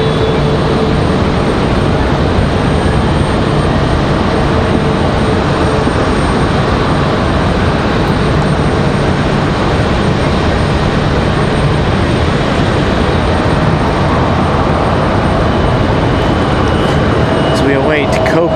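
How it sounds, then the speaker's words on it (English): JetBlue Airbus A320-200 in new livery landing at Raleigh-Durham, a sustained loud jet engine roar with steady tonal whine, a voice talking over it throughout. "this one is going to be that A320-200 in that brand new JetBlue livery"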